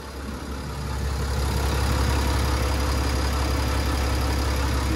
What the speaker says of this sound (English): Nice smooth running motor, very little noise or vibration on the boat.